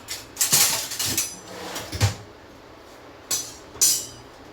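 Thin poha dry-roasted in a pan over a gas flame: metallic scraping and clatter of a utensil against the pan in a few short bursts, with quieter gaps between, near and moderately loud.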